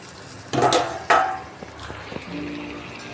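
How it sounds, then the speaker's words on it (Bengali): Chicken curry, Bengali style, stirred in a pot that is opened from under its lid: two loud scraping bursts of spoon against metal, then a few quieter clinks and soft shuffling. "সামান্য অল্প কিছুক্ষণ পরে খুলে এইভাবে 2-3 বার আমরা নাড়তে থাকবো"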